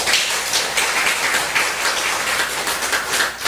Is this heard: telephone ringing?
no